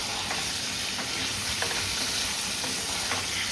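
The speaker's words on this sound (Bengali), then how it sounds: "এবার ফার্স্টে এই পনিরটা ভেজে নেব লালচে করে" Paneer cubes frying in well-heated oil, a steady close sizzle with faint stirring scrapes, continuous and even throughout with no voices.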